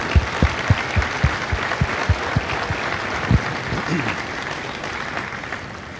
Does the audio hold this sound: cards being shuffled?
no